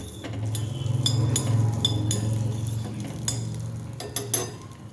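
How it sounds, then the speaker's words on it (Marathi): Onion being sautéed with spices in a pan for a spicy chutney, with a steady low cooking hiss under bright clinks and scrapes of a spoon against the pan, fairly close. "तर आता हा कांदा या साहित्यासोबतच परतून घेऊया."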